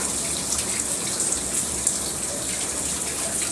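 Water runs steadily from a tap fed by a clogged pipe, a continuous close hiss and gush lasting throughout with no voices.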